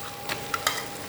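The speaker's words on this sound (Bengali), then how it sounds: "এবার আমি এর মধ্যে চিকেনটা ঢেলে দিচ্ছি" Chicken is tipped into a pan of fried onions, giving a short close stirring scrape and a sizzle with a few quick clacks, over about a second.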